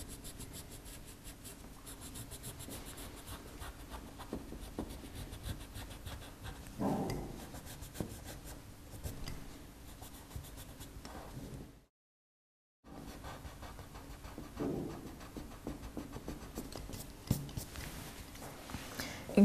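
A pencil and the sharp edge of an ordinary eraser work lightly across drawing paper, a soft continuous scratching and rubbing with a few firmer strokes and a brief silent break, close and quiet without talk.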